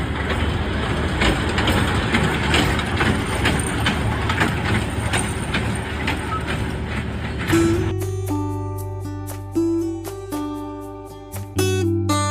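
A fairground ride train at a funfair runs steadily with a rumbling, rattling churn for several seconds, then a brighter, tonal stretch of jangling ride music or machinery takes over, loud and close, with no talking.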